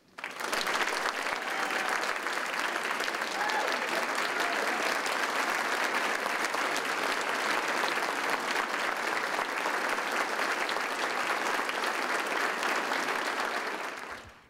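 A banquet audience gives sustained applause as Missouri's 2019 State Teacher of the Year takes the stage, a dense even wall of clapping lasting about fourteen seconds before fading, with no talk over it.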